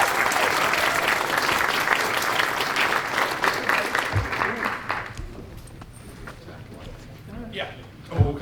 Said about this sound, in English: Guys, let's give them a huge round of applause.